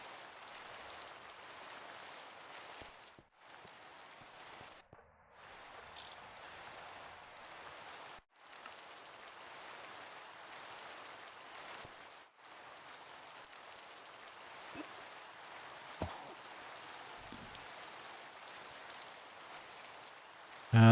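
Steady synthetic rain hisses through the Minecraft modpack GregTech New Horizons, a continuous even wash of falling drops with a few brief dropouts, no voices over it.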